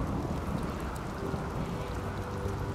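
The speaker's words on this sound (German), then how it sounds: "Es regnet bei 30 Grad." Steady rain in the RimWorld colony game during a heatwave, a dense continuous hiss that holds at an even level throughout, with no voices.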